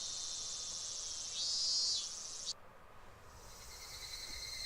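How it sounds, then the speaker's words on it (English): Higurashi cicadas chirp in the Higurashi video game as a steady high shrill drone that swells briefly, cuts out, then resumes more softly, with no talk. "The sound of the cicada. Or the Higurashi."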